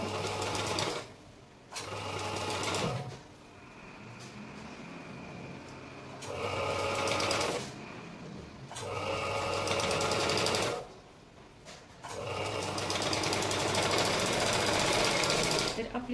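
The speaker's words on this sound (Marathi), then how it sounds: "आता आपण इथून स्टिच करून घ्यायचं आहे" An electric sewing machine stitches a blouse shoulder seam in several bursts of steady rapid whirring and clatter, separated by short pauses, with someone speaking between and over the runs.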